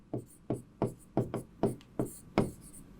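Chalk or marker knocks against a board during a Class 12 chemistry lesson, producing a series of about eight sharp, close taps in an irregular but steady rhythm with no talking.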